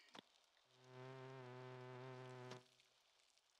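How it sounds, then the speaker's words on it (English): A bee buzzing in the video game Spelunky 2, one steady synthetic droning tone lasting under two seconds, fairly quiet, with brief game sound effects before and after and no talking. "Yeah, the bee freaked me out a little bit."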